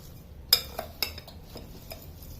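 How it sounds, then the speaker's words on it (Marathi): A spoon mixes masala into lemon and green chilli pickle in a bowl, giving a few sharp close metallic clinks followed by softer scraping taps, with no voices. "मसाला आता व्यवस्थित मिक्स करून घ्यायचा"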